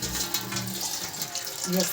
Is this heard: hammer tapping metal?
no